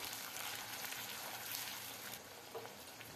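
Chopped tomato and green chillies sizzle in a pan on a medium flame while poha is made: a steady, soft, hissing fry throughout, with no talk.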